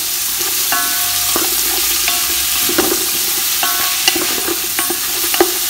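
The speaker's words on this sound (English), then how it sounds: "We are going to fry in the chopped onions." Chopped onions frying in ghee and oil for a Goan green masala chicken biryani, a constant close sizzle broken by repeated clinks and scrapes of a spoon stirring the pan, no talking.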